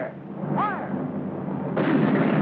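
Cannon fire in a 1951 Civil War film, Drums in the Deep South: a loud, booming rumble with a brief whistling tone early on, then a heavier blast surge near the end.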